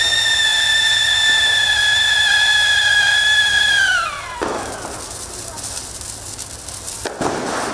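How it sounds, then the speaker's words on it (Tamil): During Diwali celebrations, a whistling firework climbs with a steady shrill tone that drops in pitch before a loud burst, followed by a second sharp crack amid crackling outdoor noise. "சிறுவர்கள் முதல் பெரியவர்கள் வரை விதவிதமான பட்டாசுகளை கொளுத்தி உற்சாகம்."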